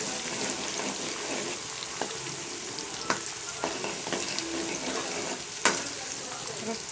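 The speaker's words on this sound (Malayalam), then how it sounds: "വെളുത്തുള്ളി ഇടാം. അതൊന്ന് വഴന്ന് വരട്ടെ കേട്ടോ." Garlic sautéing in a pan for a Kerala-style snake gourd, tomato and dal curry, giving a steady close sizzle with occasional stirring clicks and utensil taps throughout.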